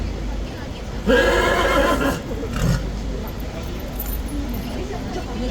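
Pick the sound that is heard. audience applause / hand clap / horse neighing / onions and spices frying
horse neighing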